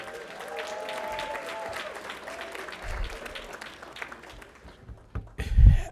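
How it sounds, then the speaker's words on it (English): Applause at a former athletes' gala for a Kashmere Senior High School inductee, sustained clapping from the crowd with voices mixed in and a louder burst near the end. "let's give a round of applause for Michael Smith"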